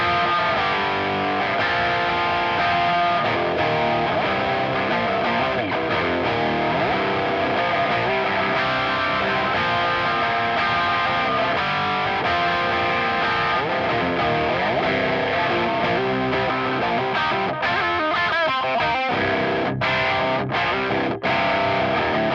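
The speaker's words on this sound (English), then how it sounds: "you can hear the kind of tones you can get from the pedal in front of a more or less clean sounding amplifier" Overdriven electric guitar run through a Valeton OD-10 overdrive pedal into a fairly clean amplifier, playing a dense, continuous hard-rock riff with a British crunch, loud and steady, a few sharp stops near the end.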